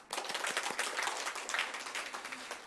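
Members of a church congregation applaud again at a Sunday worship service, a dense, even patter of many hands clapping for several seconds, close and fairly loud, with no talking over it.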